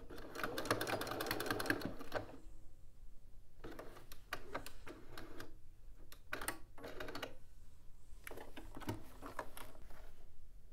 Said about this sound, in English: now we're going to stitch along this top edge here.